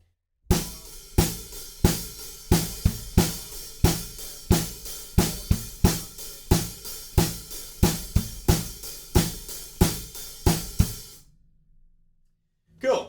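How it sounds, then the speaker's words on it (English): A song's chorus groove on a drum kit: steady eighth-note hi-hats over quarter-note snare and bass drum, loud and close, running about eleven seconds before stopping. "we're into the chorus, which is 8th notes on the hi-hats and quarter notes on snare drum and bass drum"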